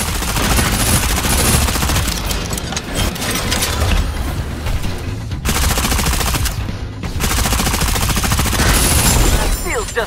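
Rapid automatic gunfire and heavy mechanical noise from a mech battle in Super Mecha Champions. Loud bursts run almost continuously, with brief gaps, alongside a voice.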